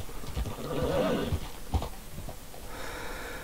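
Horses whinny and snort in a stable in Red Dead Redemption 2, a close neigh rising at the start followed by sharp hoof knocks, breathy snorts and shuffling.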